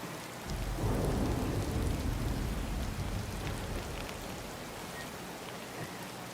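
Steady rain and rolling thunder in the Disney Dreamlight Valley video game, a loud, dense wash of falling rain with a low rumble swelling in the first seconds and continuing without talk.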